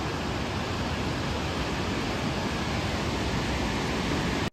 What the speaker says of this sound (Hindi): वो ऊपर से झरना आ रहा है